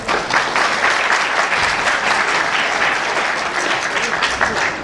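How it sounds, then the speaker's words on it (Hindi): A crowd applauds steadily at an awards ceremony, dense clapping filling the room at an even, loud level throughout. "तालियां बजाइए।"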